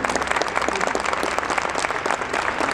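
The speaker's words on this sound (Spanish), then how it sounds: "Pues un aplauso para el doctor y a todos los comentaristas." Audience applause for a doctor and panel commentators at a book launch, a steady dense clapping that fills the room throughout with little else heard.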